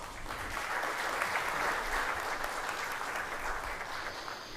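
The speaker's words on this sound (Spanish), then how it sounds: "Bienvenida y fuerte el aplauso." An audience at a digital transformation panel in Costa Rica applauds a panelist taking the stage, a dense, steady crowd clapping that stays full and even for several seconds.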